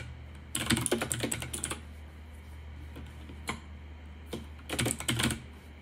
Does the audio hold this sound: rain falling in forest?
no